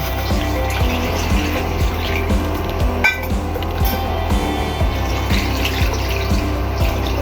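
Water is poured and splashed in a home kitchen while winter pitha dough is prepared with a little salt and flour. Steady running liquid carries on under faint clinks of utensils, with no voices.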